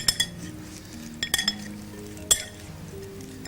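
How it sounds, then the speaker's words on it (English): Utensils clink against a bowl while a roast shrimp salad is tossed, a few sharp separate taps spaced irregularly over soft background hum. "Let's mix up this salad now."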